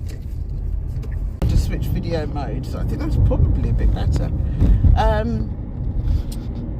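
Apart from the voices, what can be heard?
car driving, heard from inside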